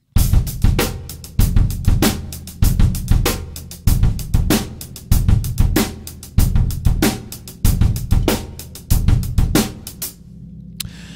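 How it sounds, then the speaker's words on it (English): A drum kit plays a syncopated funk-rock groove in which a three-note bass drum figure lands before the beat, with sharp snare and cymbal hits repeating in a loud, tight rhythm for several bars before it stops. "comprises a three-note bass drum pattern before the beat"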